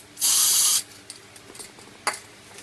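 A short, loud hiss of paint sprayed from a can onto a Subaru control arm bush, about half a second long, followed by quiet handling clicks and a second faint puff.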